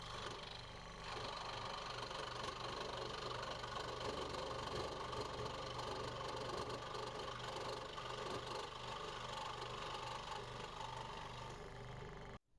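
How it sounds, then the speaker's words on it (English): A scroll saw cuts through a wooden fishing lure blank, making a continuous rapid mechanical chatter and hum. The sound stays steady and moderately quiet for about twelve seconds, then cuts off at the end. "I'm making the cut with the scroll saw."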